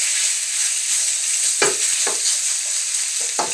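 Garlic and beef sizzling loudly in a hot wok, a bright steady hiss of frying broken by a few scraping stirs of a wooden spoon, close and without voices.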